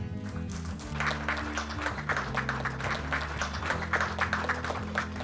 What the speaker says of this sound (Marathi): त्यामुळे त्याच्याकरता खूप खूप टाळ्या होऊ देत